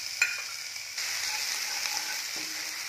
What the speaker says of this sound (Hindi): जीरा हमारा गर्म हो चुका है, अब इसमें डाल देंगे हम अदरक लहसुन